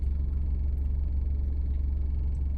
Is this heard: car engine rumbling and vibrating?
yes